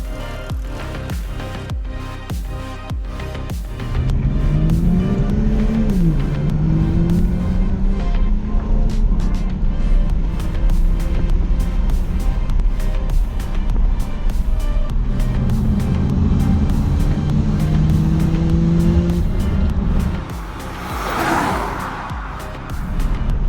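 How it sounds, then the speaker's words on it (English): A Ford Falcon fitted with a Ferrari engine and turbo, loud and close, its engine revving in rising and falling sweeps with a whining spool-up, then dropping away near the end. "I was trying to spool it up and see if it'd go."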